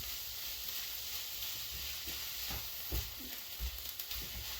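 Small balls of dough frying in hot oil in a pan as they are stirred, a steady sizzle and hiss with faint scraping stir sounds, close and with no talk.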